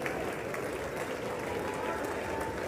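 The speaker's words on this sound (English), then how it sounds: "5 minutes of clapping, bro" A long stretch of dense applause from a large audience at the State of the Union address, a continuous wash of clapping with a voice talking over it nearby.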